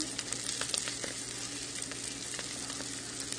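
Chopped bacon and Brussels sprouts fry in a pan, giving a constant quiet sizzle with small pops and crackles spread evenly throughout, close but low in level.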